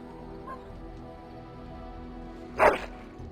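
A dog in the fantasy role-playing game Dragon Age: Origins gives a single short bark late in the clip, over a quiet game-ambience bed.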